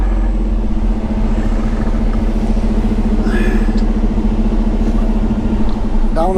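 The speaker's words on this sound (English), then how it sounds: "So we gotta fight all this bloody traffic." Road traffic heard from inside a truck, with a loud, steady engine drone and road rumble throughout and a brief higher whine near the end.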